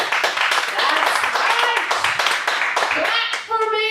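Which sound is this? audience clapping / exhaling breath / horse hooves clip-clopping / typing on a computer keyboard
audience clapping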